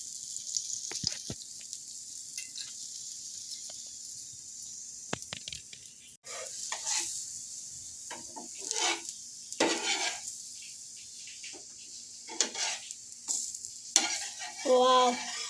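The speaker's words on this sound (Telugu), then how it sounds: "దీని మీద వేయాలి వేసి కాలవాలి మర్రేసి మళ్ళీ నెయ్యి వేయాలి" Burelu fry in ghee in a pan, a soft sizzle that rises in uneven bursts and scrapes as they are moved and turned.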